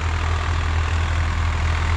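Steady low rumble of a 2023 Swaraj 855 FE tractor engine running through its break-in while pulling a harrow, heavy and unbroken, heard up close with no talking.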